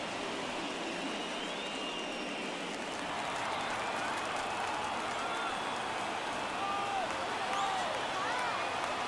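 Crowd at a late-inning MLB The Show baseball game, a broad steady roar of cheering that swells slightly toward the end, with a voice talking over it.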